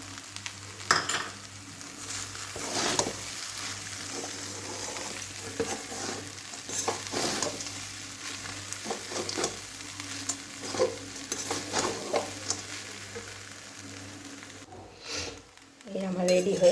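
Chira pulao of flattened rice is stirred in a pan with fried nuts added. Close, continuous scraping and tossing sound over a light sizzle, with occasional clinks of utensil on pan before a brief pause near the end.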